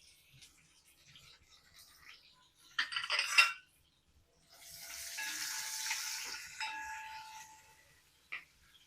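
Onion tossed into a pan where garlic has browned, a burst of clattering and stirring followed by a steady mid-level sizzle of frying that fades toward the end with a brief knock.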